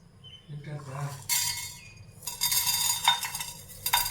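Shallots, garlic, ginger and small tomatoes are dry-roasted in a kadai without oil, heard as a metal spoon clinking and scraping against the pan in several sharp bursts, with a brief low voice early on.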